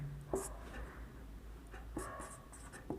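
A few quick strokes of writing on a classroom board while a short tense abbreviation is written out, with brief scratchy bursts spaced apart over a quiet, low hum.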